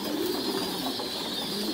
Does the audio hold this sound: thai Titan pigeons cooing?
yes